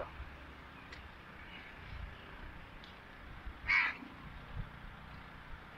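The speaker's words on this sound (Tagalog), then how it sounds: "Mga uwak." Crows caw outdoors on an early-morning walk, a few faint distant calls followed by one clearer, louder caw over a quiet background hum.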